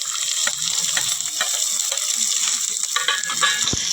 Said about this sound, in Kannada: ಈರುಳ್ಳಿ ಸ್ವಲ್ಪ ಗೋಲ್ಡನ್ ಬ್ರೌನ್ ಫ್ರೈ ಆಗೋವರೆಗೂ ಬಿಡಬೇಕು